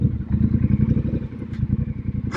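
Triumph Bobber Bonneville motorcycle rolling through a parking lot, its engine thrumming in a steady low pulsing rumble close to the mic, with a brief clatter near the end.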